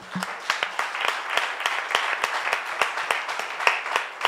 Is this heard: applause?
yes